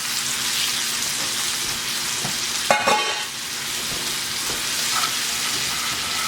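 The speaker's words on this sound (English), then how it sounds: "We're just going to stir this together and we're going to kind of mush our berries" Blackberries and sugar, brown and white, are stirred and mashed together in a pan, a steady wet sizzling texture with a louder scraping clatter of the spoon near the middle; nobody speaks.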